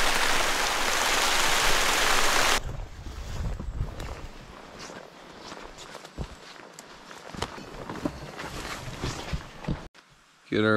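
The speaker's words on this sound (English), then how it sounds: "Weather report, rain." Rain falls outdoors in a wild setting, a loud, even hiss at first, then softer scattered patter and drips with brief rustles and a voice near the end.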